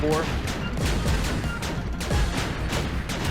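Fire-shooting enemies in the video game Kirby's Epic Yarn let off repeated bursts of gunfire-like blasts, dense and loud, over busy game music and effects while a voice talks throughout.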